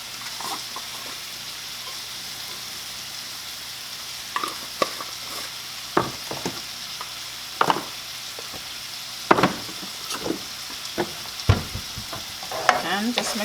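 Food being stirred and mixed in a frying pan, seasoned with salt, pepper and adobo, with a steady sizzle and repeated scraping strokes growing busier toward the end.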